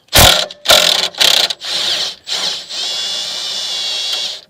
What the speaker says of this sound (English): So I'm going to loosen the top bolt quickly.